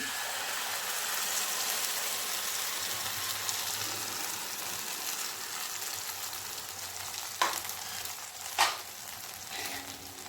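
Paste of pointed gourd pulp ground with green chilli sizzles in hot oil, a steady close hiss of frying with a couple of sharp scraping stirs near the end, no talking.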